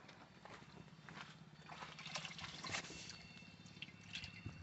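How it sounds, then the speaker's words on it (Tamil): Water from a motor pump runs to waste, a steady close trickle and splash that keeps going without a break. "மோட்டர் தண்ணி வேஸ்ட்டாக போகுது"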